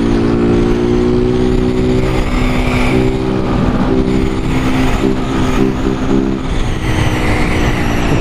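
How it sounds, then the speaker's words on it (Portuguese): A Honda Fan 160 motorcycle rides a wheelie in traffic during deliveries, with a loud, close, steady engine drone that holds a sustained tone and surges slightly throughout. "Vê a moto vindo empinando atrás"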